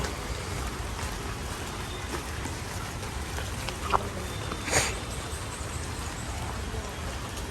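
Morning rain falls on a pond, a steady close hiss of drops spread evenly throughout, with a couple of brief louder splashes or taps in the middle.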